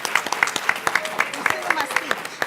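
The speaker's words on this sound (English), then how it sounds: "Give a round of applause" An audience at a talk on mental health strategies gives a round of applause, heard as a string of distinct, fairly sparse claps that stay steady throughout.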